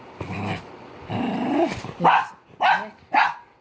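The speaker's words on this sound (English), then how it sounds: "so I apologize for his growling and his barking." A dog growls low and close, then lets out three sharp, loud barks in quick succession, with no talking.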